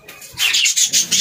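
Pet budgies in a cage give a quick run of loud, sharp chirping calls, about five bursts in close succession, with no voices.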